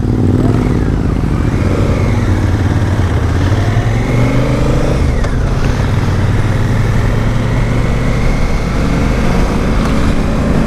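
A 2017 Honda Africa Twin motorcycle rides along, its engine droning loud and close with shifting pitch and heavy wind rush throughout.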